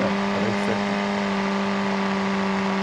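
Car engine in the BeamNG.drive driving game, a steady loud droning hum held at a constant pitch, no speech.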